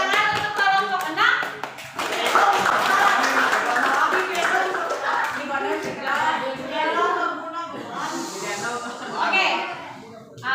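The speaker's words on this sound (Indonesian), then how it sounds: "Beri tepuk tangan untuk kelompok 6." A classroom of students claps for the best group, a dense, steady burst of many hands lasting several seconds, with children's voices mixed in throughout.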